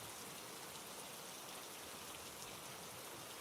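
Rain falling steadily: a soft, even hiss of dense drops pattering on surfaces, faint and continuous with no voices.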